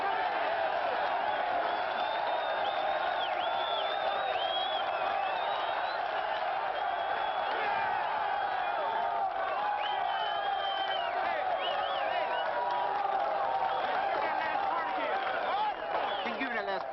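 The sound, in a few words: crowd of prisoners cheering and applauding after a speech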